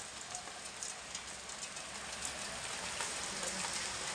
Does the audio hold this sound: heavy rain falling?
yes